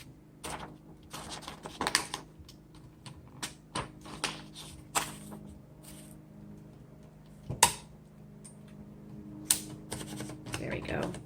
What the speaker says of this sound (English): So everything works on this typewriter,